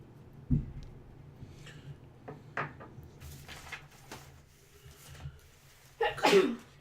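A single sharp sneeze bursts out near the end of a quiet stretch around a tabletop role-playing game session, following scattered soft thumps and shuffles from the table.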